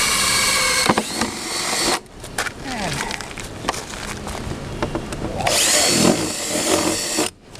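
A power drill whines steadily at close range while drilling into a tow dolly fender, in two sustained bursts with a brief pause between them and a short stop near the end.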